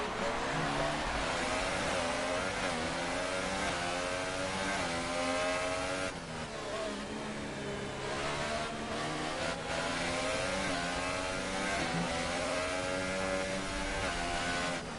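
Racing car engines in a Formula-style PS4 racing game at the Canada round, several engines whining and shifting pitch continuously, loud and layered as cars pass close together, with no talking.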